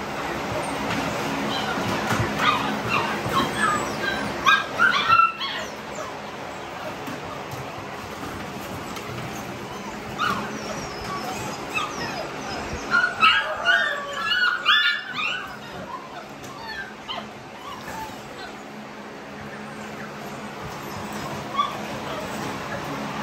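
XL pitbull dogs and puppies whimper, whine and yip, with several high, overlapping cries coming in bursts that rise to busier clusters around the middle, all against steady background noise.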